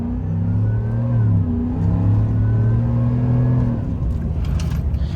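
A deep, rumbling Whipple-supercharged V8 in a GMC Sierra AT4 pickup revs up and down steadily with supercharger whine building in the background, close and continuous.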